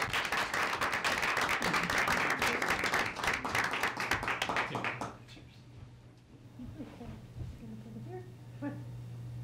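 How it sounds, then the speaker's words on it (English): Applause for honorees at a city council meeting, a room of people clapping steadily for about five seconds before it dies away and voices murmur. "let's give these gentlemen a great round of applause for receiving it"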